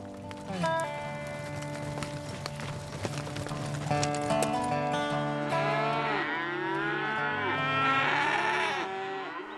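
Young cattle, almost a year old, low at a ranch in flat scrubland country, with drawn-out moos rising and falling over hoof clatter and farm activity, fairly close and continuous.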